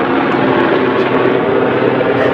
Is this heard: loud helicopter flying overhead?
yes